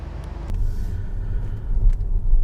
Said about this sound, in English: let's take the car and we go test the soundproofing or the sound dampening on the ContiSilent tires